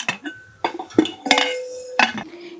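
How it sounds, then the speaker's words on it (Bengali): Pressure cooker lid and gasket handled, with several separate metallic clanks and clinks, one leaving a short ringing tone, close and fairly loud with brief gaps between, and no talking. "প্রেসার কুকারে অল্প বালি দিয়েছি আর এই দেখুন ঢাকনার ওপরে সিটি আর এই যে গার্ডারটা খুলে লাগিয়ে দিচ্ছি"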